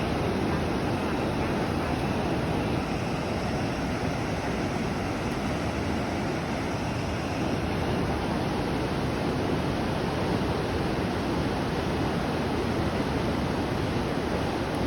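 A waterfall pours without a break, a steady, full rush of broadband water noise that holds even and close for the whole stretch with no voices over it.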